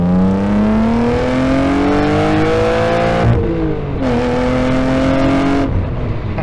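A car accelerates hard up a freeway on-ramp, its engine note rising steadily through a gear, a brief dip at the shift, then climbing again, loud and close from inside.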